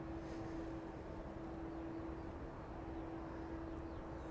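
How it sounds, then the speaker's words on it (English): Airliner on the Valencia service taxiing toward runway 27 at East Midlands Airport, a low, steady engine rumble with a sustained tonal whine, faint and distant, unchanging throughout with no talk. "making its way down the taxiway now to the start of runway 27."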